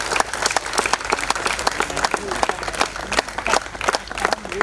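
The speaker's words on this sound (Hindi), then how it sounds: "उत्तम के लिए जोरदार तालियां।" Loud, sustained applause from a theatre audience at the closing show of a twenty-day drama workshop based on Rashmirathi, dense clapping continuing throughout with some crowd voices mixed in.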